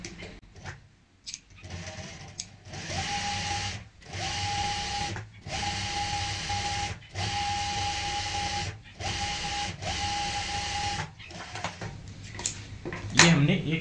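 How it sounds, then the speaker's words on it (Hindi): A sewing machine stitches along a folded cushion cover seam in steady bursts, a humming mechanical whir repeatedly starting and stopping, fairly close, with a voice speaking over parts. "यहाँ पे एक पैर चौड़ाई वाली सिलाई लगा देंगे"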